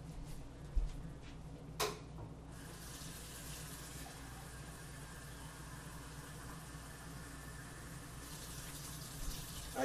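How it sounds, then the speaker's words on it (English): Tap water runs steadily into an empty soup can in a home kitchen, a faint continuous stream with a couple of small knocks early on. "and fill it up with water."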